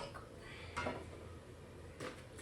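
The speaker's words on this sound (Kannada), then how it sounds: "ಆಮೇಲೆ ಪಾತ್ರೆ ಇಡಬೇಕು" Metal cooking pot set down on a gas stove in a home kitchen, a couple of quiet clanks and scrapes over a low background hush.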